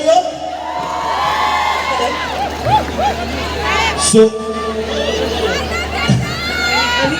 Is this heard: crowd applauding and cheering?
yes